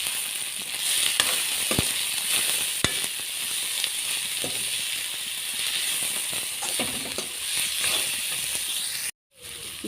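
Spices such as cinnamon, cloves and cardamom powder sizzle in oil in a pan over a low flame, a soft steady hiss broken by scattered scraping and clinking as they are stirred, with no talking.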